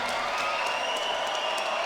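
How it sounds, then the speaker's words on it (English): Arena crowd applauding two mixed martial arts fighters after a professional bout, a steady, moderately distant wash of clapping with faint cheering. "give these 2 fighters a big round of applause tonight"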